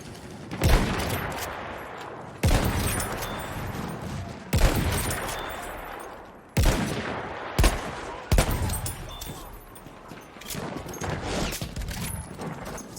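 Heavy gunfire in the World War I shooter Battlefield 1, with repeated loud volleys and sustained automatic bursts broken by sharp new barrages over about thirteen seconds, all close and dense.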